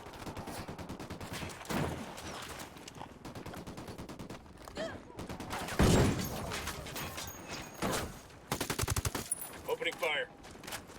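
Automatic gunfire in the tactical shooter Ghost Recon Wildlands, repeated rapid bursts and single shots crackling throughout, loud and close, with a voice heard briefly amid the shooting.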